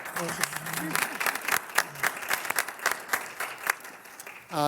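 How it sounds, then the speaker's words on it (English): Applause rises at a Carver school committee meeting, scattered claps from a modest group of people, uneven and fairly close, while a speaker keeps talking over them throughout. "we can applaud for that"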